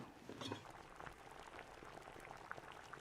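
Rice and shredded mugwort bubble in a pot over high heat, a faint steady bubbling with small pops and a brief clink near the start, no talking.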